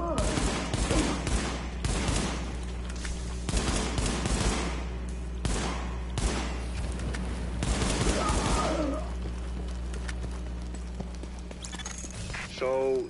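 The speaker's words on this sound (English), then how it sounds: "So, that shooting, that was you, right?" Rapid bursts of gunfire in the video game Tom Clancy's The Division, loud and repeated across the first half, with clopping hoof-like knocks mixed in, then fading toward a quieter stretch.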